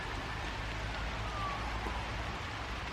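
Rain falls steadily outdoors at night, a constant close hiss and patter that fills the whole stretch without pause.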